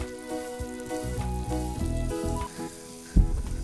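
Capsicum sautéing in a pan of hot oil, a steady close sizzle with a few brief stirring knocks and a sharp clack near the end.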